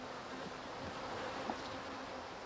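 Bees swarm and buzz around a beekeeper on Dartmoor in summer, a soft, continuous drone with individual insects passing close now and then.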